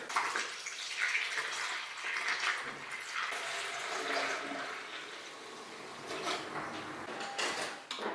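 Water poured into the cooling system of a Toyota 2JZ engine after a water pump install, a gurgling, splashing flow with shifting intensity and a few brief knocks, moderately close.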